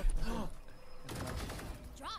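Gunfire in the video game Valorant, a few sharp shots in a quick burst over busy game sounds, with a voice talking underneath.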